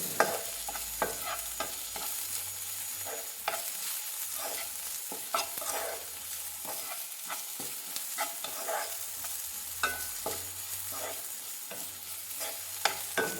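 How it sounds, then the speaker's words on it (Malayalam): Egg fried rice with turmeric and chili powder being stirred in a pan, repeated scraping strokes of a spatula over a continuous sizzle, close and steady with no talking. "എന്നിട്ട് അത് നന്നായിട്ടൊന്ന് ഇളക്കി കൊടുക്കുക."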